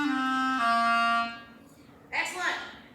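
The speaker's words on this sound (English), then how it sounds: "That's a clarinet." A sixth-grade band student plays a clarinet in sustained reedy notes, stepping from one pitch down to a lower one before fading, followed by a brief burst of voices.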